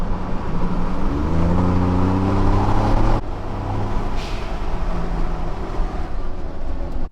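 A 2019 Ford Raptor F-150 fitted with a vent-to-atmosphere blow-off valve drives along loudly, its engine drone steady with rising tones before an abrupt shift and a brief hiss as the throttle lifts, then continued road noise.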